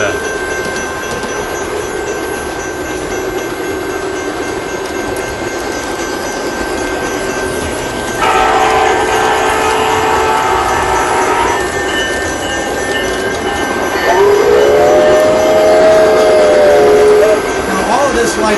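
A custom model train set with a gondola car runs along its track, a steady mechanical rumble under people talking nearby, with a brief whistle-like tone near the end.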